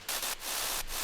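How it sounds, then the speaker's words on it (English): White noise synth layer in a dance-track remake, its level swept by an LFO: a steady broadband hiss that dips briefly and swells back in a slow pulsing rhythm, loud and alone. "So it's white noise and then it has this LFO on here."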